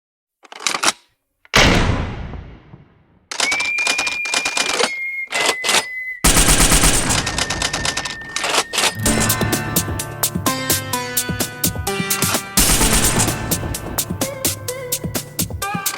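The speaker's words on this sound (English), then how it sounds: "Someone, shots fired." Police gunshots fired at a knife-wielding man during a street confrontation: a few sharp, isolated cracks, then a long stretch of rapid, dense, crackling gunfire that stays loud throughout.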